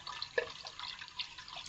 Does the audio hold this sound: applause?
no